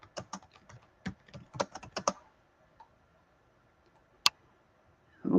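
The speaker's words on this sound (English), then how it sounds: "So let me just go and type on her thing here." Typing on a laptop keyboard close by: a quick run of crisp key clicks for about two seconds, then quiet with a single sharp tap and a brief rustle at the end.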